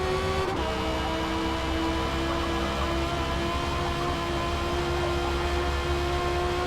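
McLaren race car lapping Watkins Glen in a racing video game, a steady loud engine drone holding a near-constant pitch under a wash of broadband road noise, with no talk.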